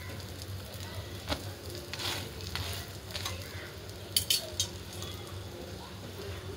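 A ghee-brushed chapati sizzles softly in a pan over very low gas, a faint steady crackle with a few brief clinks and scrapes near the end.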